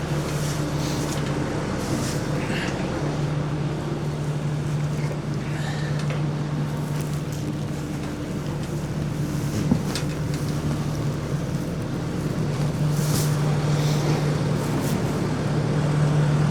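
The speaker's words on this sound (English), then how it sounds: "Move the skid steer out of the way." A skid steer loader fitted with bale forks runs on a farm with a steady, droning engine note, loud and continuous, its tone holding level with slight shifts as it moves.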